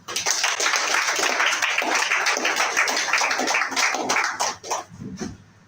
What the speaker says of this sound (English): Let's clap for this company